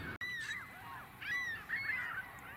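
Geese honking among other waterfowl at Oswego Harbor, a busy overlapping chorus of nasal calls at moderate distance over a steady background hiss.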